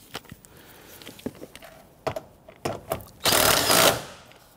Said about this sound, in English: install that lower bolt. Get that started, and then we'll tighten that down